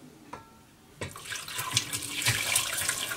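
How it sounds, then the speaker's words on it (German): Vegetable stock poured from a pot through a sieve: after a quiet second, a splashing liquid rush starts and grows steadily louder. "Und den letzten Rest gieße ich dann aus dem Topf durch Sieb."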